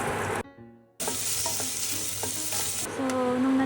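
Garlic, onion and ginger sautéing in a pan, a loud close sizzle that cuts out briefly, then returns with scraping stirs and a hissing surge, no voices.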